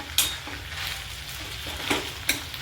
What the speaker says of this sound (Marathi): कोथिंबीर पण परतून घ्यायची